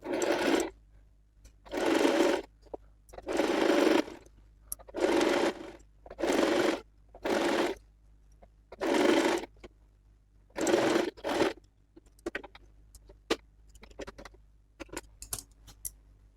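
A sewing machine stitches a folded blouse hem on a high-neck collar blouse in about seven short whirring bursts, each a second or so, separated by brief pauses. Faint ticks and handling sounds follow near the end.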